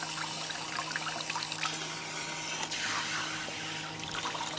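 Water streams from a Camplux Nano portable gas water heater shower in a dense, even rushing spray with a faint low hum, continuous and close.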